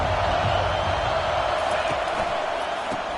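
A stadium crowd at a football game against Texas A&M roars in a sustained, loud wall of cheering that holds steady from start to finish.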